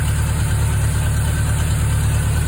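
Honda CB750A motorcycle engine idling quietly and evenly, a smooth low steady rumble with no rattle, heard alone and close.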